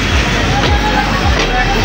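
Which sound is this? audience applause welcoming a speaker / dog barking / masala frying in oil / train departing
train departing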